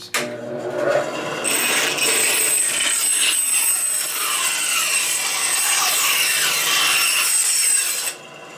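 A foam wing core is cut, a continuous close scraping, sawing rasp lasting around seven seconds before stopping abruptly, with no talk.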